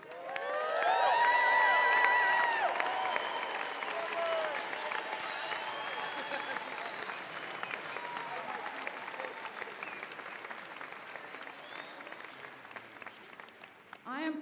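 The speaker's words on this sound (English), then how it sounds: "let's holler out with a good Aggie cheer to support those student athletes" A large commencement crowd cheers and applauds for student athletes at a 2017 undergraduate graduation ceremony, whoops and shouts rising loud at first and then settling into sustained clapping with cheering in a big venue.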